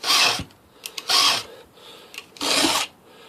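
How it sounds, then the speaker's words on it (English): A file rasps across chainsaw teeth during sharpening, with three distinct strokes about a second apart, each a loud, bright scraping rush up close, separated by brief quiet gaps. "it only takes a few minutes to sharpen this saw"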